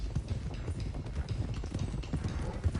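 In the Red Dead Redemption 2 video game, horses' hooves clop in a quick, rapid galloping rhythm at moderate volume, alone and without talk.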